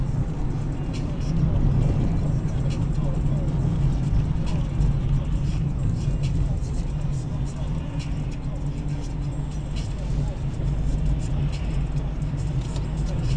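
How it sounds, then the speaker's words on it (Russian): A car drives past on a city road near a regulated intersection, a steady broad engine and tire rumble that stays loud throughout, heard from inside another vehicle during a driving lesson. "Прямо смотри, проехала машина."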